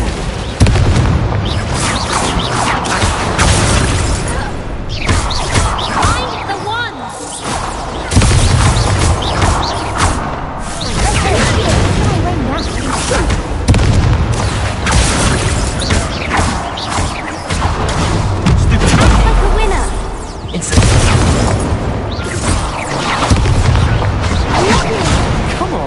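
Repeated Confringo blasting-spell explosions in Hogwarts Legacy combat: loud, dense booms and crashes recurring every few seconds over a long stretch, mixed with creaking debris and a voice calling out between blasts.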